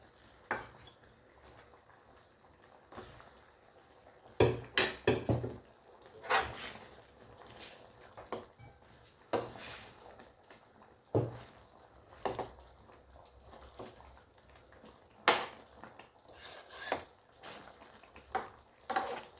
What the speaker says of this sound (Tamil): இப்போ இதோட இந்த மீனையும் நம்ம சேர்த்துக்கலாம்.